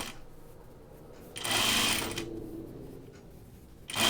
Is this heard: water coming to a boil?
no